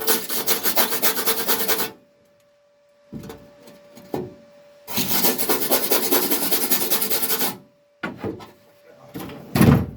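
A wire brush scrubs gunk off the bulkhead of a Ford Escort MK1 under restoration, in loud, close bursts of rough scraping separated by pauses and a few short knocks.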